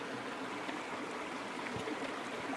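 A shallow, half-dried river flows through the Lake District countryside around Rosthwaite and Grange, a faint, even rush of water with no voices.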